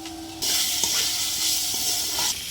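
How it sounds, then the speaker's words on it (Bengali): Spice masala for chicken devil fried and stirred in a pan, a loud steady sizzle that starts abruptly and continues for about two seconds before cutting off, with light scraping of the stirring through it and no talking. "মশলাটা ভালো করে কষে নেব।"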